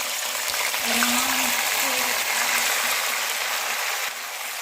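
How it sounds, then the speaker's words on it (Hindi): Mutton pieces dropped into hot oil in a karahi sizzle with a dense, steady hiss and crackle throughout, close and loud, with a faint voice underneath. "मैं अब इसमें मटन ऐड कर दूँगी।"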